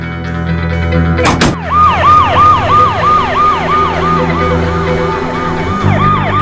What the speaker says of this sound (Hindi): माँ, मैं एम्बुलेंस में हूँ